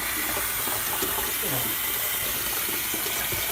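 Water pours steadily into a KUPPET compact twin tub portable washing machine with a 26 lb capacity, a constant rushing hiss close by with faint speech under it.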